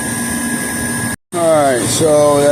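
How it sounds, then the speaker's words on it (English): An air conditioner's compressor and condenser fan run as a steady mechanical drone with a whining tone, cut by a brief silence, then resume louder with tones that rise and shift, while a voice talks over it. "So when the compressor comes on, the fan comes on."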